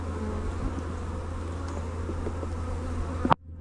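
An angry, violent hive of honey bees buzzing close by during a demaree split, a dense steady drone with a sharp knock just before it cuts off.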